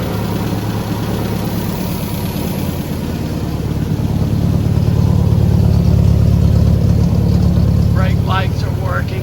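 A vehicle engine idles smoothly, a steady loud low rumble that swells slightly midway, with a few faint chirps near the end and no clear talking.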